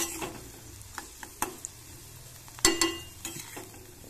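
Vegetables fry in a pan with a soft steady sizzle, broken by sharp scraping clacks of a spatula stirring them, the loudest strokes coming in a quick cluster near the end.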